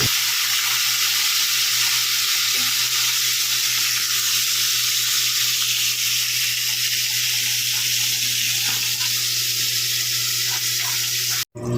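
Ingredients frying in a pan of hot oil for a Holy Week dish, giving a steady, dense sizzle that runs unbroken throughout at close range with no talking.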